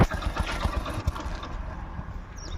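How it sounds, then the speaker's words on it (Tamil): A 2015 single-owner Hero Splendor Plus motorcycle idles close by, its engine a soft, steady low putter with light pulsing at the start and no other prominent sounds. "வண்டி ஸ்டார்ட் பண்ணுறேன், நீங்களே பாருங்கள்."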